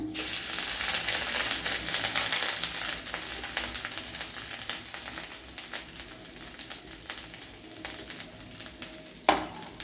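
Grated fresh coconut fries in melted ghee, a steady close sizzle with frequent stirring scrapes that gradually quiets, ending with one sharp clink of the utensil.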